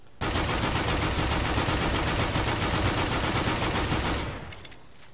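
Rapid automatic fire from the dualies weapon in a shooter video game, driven by a Logitech rapid-fire macro: a dense, loud, unbroken stream of shots lasting about four seconds before cutting off and trailing into quieter game sounds.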